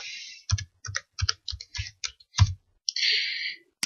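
Keys on a computer keyboard clatter in a quick irregular burst of about ten crisp clicks and taps, close and alone against near silence, with a brief hiss at the start and end.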